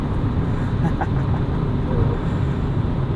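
A 1997 Volvo 850 R's five-cylinder engine cruises on the highway in top gear at 3,500 RPM, a steady loud low drone mixed with road and wind noise, unbroken throughout.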